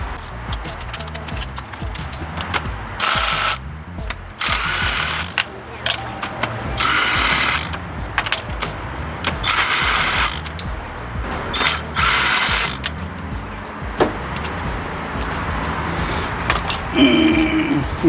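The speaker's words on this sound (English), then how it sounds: "so I'm going to pull the plugs" Ratchet clicking and ratcheting bursts while spark plugs are pulled from a Honda D-series engine in a JDM EF Civic Shuttle, close and loud in irregular spurts, with someone talking intermittently.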